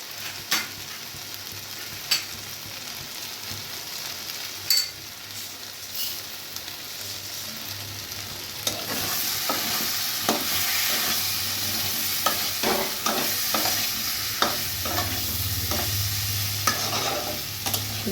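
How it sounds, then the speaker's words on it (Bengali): Spices and sweet potato sautéing in a pan with cumin powder, salt and turmeric, a quiet sizzle under repeated scraping stirs of a spatula that grow more frequent and louder in the second half, no talking. "যতক্ষণ না মশলার গন্ধ যায় ততক্ষণ কিন্তু এটা আমি কষতে থাকবো"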